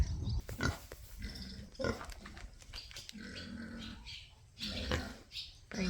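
Pigs grunt and snort up close while being handed treats at feeding time, a steady run of overlapping throaty grunts with a few louder squeals, no talking.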